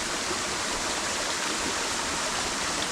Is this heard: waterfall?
yes